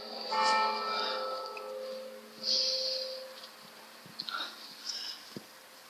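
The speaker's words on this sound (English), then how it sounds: "clocks chiming 3" Clock bells chime in an English village, several sustained ringing tones fading one after another at a moderate distance with quiet breathing-like noises between.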